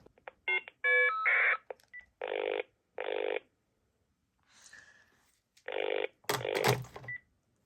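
A telephone dials out with a series of steady DTMF tone bursts, followed by ringback-like tones and brief clicks, clean and close in a quiet setting.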